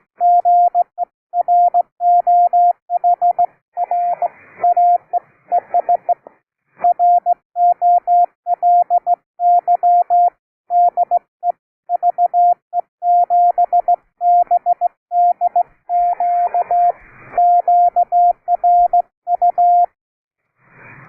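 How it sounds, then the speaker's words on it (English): Steady Morse code tones beep in rapid dots and dashes over a 3729 kHz amateur radio net channel, a strong signal, with brief static crackles between the keyed bursts. "that sounds like somebody warming up the key. Go ahead, CW."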